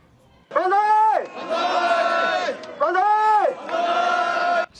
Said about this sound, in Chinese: 伫法院外口数百支持者听到法院宣判无罪释放，原声欢呼